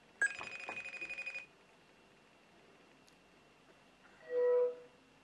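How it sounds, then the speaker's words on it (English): A FaceTime call starts with a short tone and then a rapid pulsing ring burst. After a quiet gap a brief connecting chime follows. Everything is moderately loud and there is no talk. "Let's hit FaceTime."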